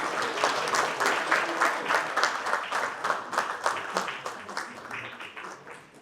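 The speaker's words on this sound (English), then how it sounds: "Ladies and gentlemen, a big round of applause." An audience at an innovation week launch event in Kohima breaks into dense, loud applause that holds steady, then gradually thins and fades toward the end, with no one speaking.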